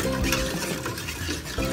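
Coconut milk being stirred in a pot as sugar dissolves into it, a steady close scraping and swishing with a soft simmering sizzle, no talking.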